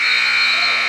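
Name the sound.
wrestling match period-end buzzer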